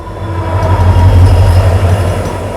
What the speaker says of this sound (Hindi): ये आई सियालदा सबरूम। पहले इस वाली ट्रेन को क्रॉस कराएंगे